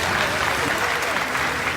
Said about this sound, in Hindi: तो एक बार तालियां तो बजा दो।